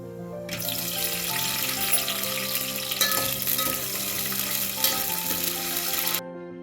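Continuous loud sizzling and spattering of about fifteen green chillies frying in hot oil for biryani, a steady crackle with occasional stirring, ending abruptly.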